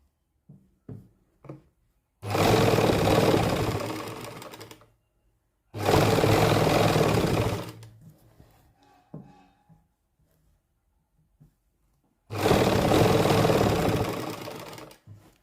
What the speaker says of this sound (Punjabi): ਤੇ ਇਸ ਤਰੀਕੇ ਨਾਲ ਆਪਾਂ ਖਿੱਚ ਖਿੱਚ ਕੇ ਸਿਲਾਈ ਲਾਉਣੀ ਹੈ